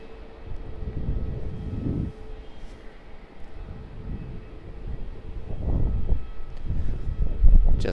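A Q300 turboprop lands in gusty crosswind on runway 16 at Melbourne Airport, a distant low engine roar and wind rumble that swell toward the end, heard alone outdoors.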